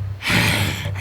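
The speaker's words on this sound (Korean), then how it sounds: "이모기는 거친 숨소리를 뿜어냈어요." A creature lets out one rough, heavy breath in a Korean folk-tale audio drama, a short breathy rasp standing alone against a low hum.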